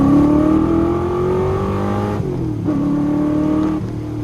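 A Ford 347 Foxbody Cobra makes a quick second-gear pull, its engine climbing steadily in pitch, then dipping at a brief lift before rising again, loud and close with no talking.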